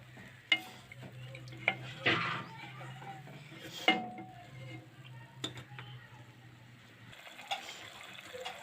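A soybean kofta curry simmers in a pan on the stove, with a soft sizzle broken by a few clinks and scrapes of a spoon stirring against the pan, fairly quiet and close.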